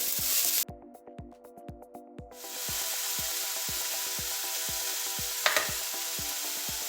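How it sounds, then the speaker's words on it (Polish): Onion fries in a little oil in a pan, with an even, close sizzle that builds after a quieter start and runs steadily over a rhythmic musical beat. "I podsmażamy cebulę."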